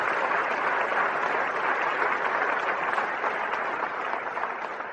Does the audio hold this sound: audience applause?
yes